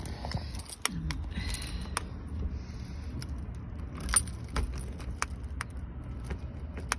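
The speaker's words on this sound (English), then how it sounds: "so here's me trying to unlock the door" Keys jingle and clink in sharp bursts near the listener while unlocking a door with a sticking handle, with a low rumble of a passing car or engine underneath.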